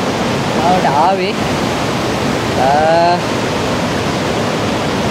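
Galboda waterfall, a loud steady roar of falling water heard close up and filling the whole scene, with a voice speaking briefly over it twice.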